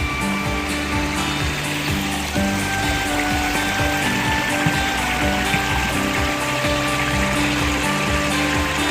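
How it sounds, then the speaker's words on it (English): A small creek flows under a little bridge out in the Virginia countryside with a loud, steady rush of water that holds constant throughout, and no one speaks. "A little creek that's flowing down here."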